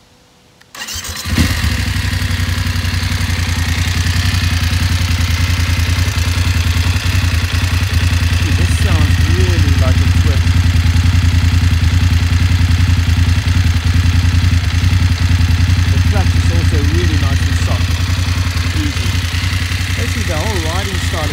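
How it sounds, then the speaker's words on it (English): A 2018 BMW F850GS motorcycle engine starts and then idles steadily and loudly up close, with a deep constant rumble and some light mechanical clatter. "let's start this one up so you can hear how it sounds like"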